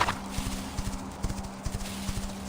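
Horse hooves clip-clopping in a fantasy video game, a steady close rhythm of hoof beats over a faint low hum, with no talk.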